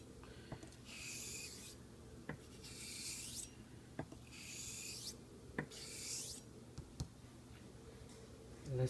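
A straight razor honed on a Japanese natural Nakayama stone, with slow rhythmic rasping strokes in sets of several, each a soft scraping sweep followed by light taps as the blade is turned, close and quiet.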